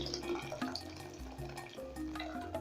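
Water poured into a cooking pot to make Kenyan yellow ugali: a faint, short splashing trickle with light dripping close by.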